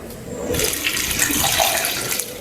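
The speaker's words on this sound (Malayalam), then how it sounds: "ഇനി നമുക്കിത് വേകാൻ ആവശ്യത്തിനുള്ള വെള്ളം ഒഴിച്ചു കൊടുക്കാം." Cowpea cooking water is poured into a pot, a close, continuous splashing gush that starts abruptly and runs steadily for about two seconds with no talk.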